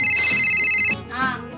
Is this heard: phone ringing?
yes